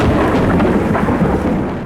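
A low, rumbling roll of thunder rumbles on for nearly two seconds, heavy and broad, slowly fading toward the end.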